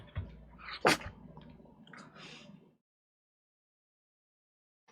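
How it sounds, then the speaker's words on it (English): A dog gives one sharp, close sneeze amid snuffling breaths, followed by a few seconds of quiet. "They make him sneeze."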